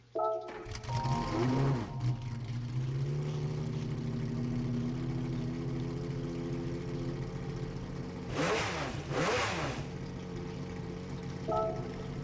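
A 1988 Jaguar XJR-9 race car engine in Gran Turismo 7 cranks and fires up, then settles into a steady, rumbling idle with a couple of sharp revs partway through.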